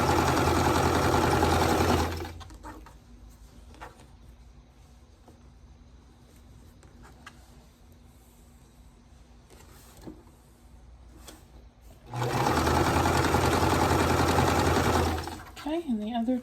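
A sewing machine stitches quilt half-square triangles in two loud, continuous runs of a steady mechanical hum, with a quieter stretch of handling noise between them and a brief voice near the end.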